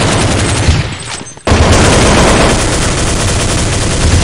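Loud, close automatic gunfire bursts in the Counter-Strike 1.6 video game, a dense rattling barrage that briefly fades, then cuts back in abruptly and keeps firing steadily.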